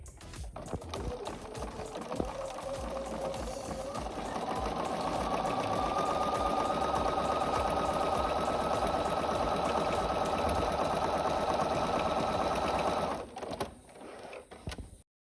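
A sewing machine runs a zigzag stitch row, with a steady mechanical whir that holds for about thirteen seconds before stopping, loud and close with no talking over it.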